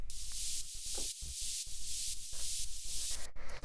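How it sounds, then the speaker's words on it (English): Quiet white noise from an Operator synth with a high-pass filter, used as a background layer in a melodic house track; a steady airy hiss with faint rhythmic dips, alone with no talk. "All this is actually is just some white noise inside of operator here."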